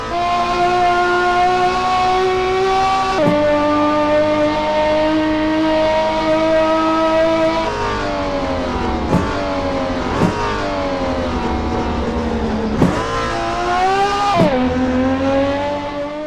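A race car engine in the PISTA Motors racing sim game revs loud and close, with sustained high-pitched harmonics and repeated sharp gear shifts as it climbs and drops in pitch.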